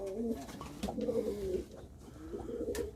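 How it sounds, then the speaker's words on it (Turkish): Pigeons in a coop, some on perches and some on the floor, give soft, throaty rolling coos that run nearly continuously and close by, with no talking. "Tüneklerde güvercinlerimiz. Yerdeki güvercinlerimiz."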